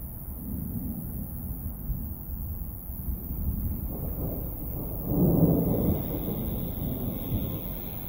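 Thunder during a strong summer thunderstorm in July, a low distant rumble rolling steadily with a heavier swell midway, set against outdoor wind and soft background noise.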